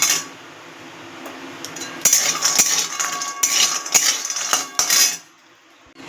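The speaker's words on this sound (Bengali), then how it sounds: "এদিকে কড়াই বসিয়ে দিয়ে শুকনো কড়াইতে আমি বড়িগুলো মিডিয়াম" Dried lentil dumplings (bori) dry-roasting over medium heat in an empty iron wok (kadai), with a spatula clattering and scraping against the metal in a quick, busy run of clinks that stops abruptly.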